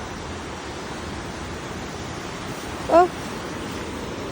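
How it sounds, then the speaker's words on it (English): Steady, broad rushing roar of a waterfall in Bad Säckingen, Germany, heard close and continuous, with a brief vocal exclamation partway through. "That's the waterfall."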